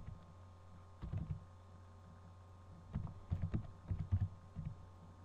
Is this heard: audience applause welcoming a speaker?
no